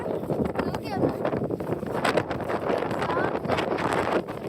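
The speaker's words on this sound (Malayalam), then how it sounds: "ഒരു കാറ്റ്" Gusty wind in rainy weather at Halibut Point park buffets the microphone in rough, uneven bursts, with people talking over the blustery roar.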